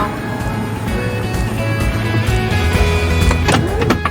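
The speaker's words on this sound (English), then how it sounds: "Button right here, close that door." A power sliding door on a 2021 Chrysler Pacifica Pinnacle minivan glides shut with a steady motor whir, ending in a latching clunk near the close, recorded up close.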